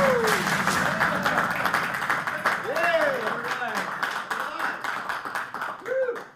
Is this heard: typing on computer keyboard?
no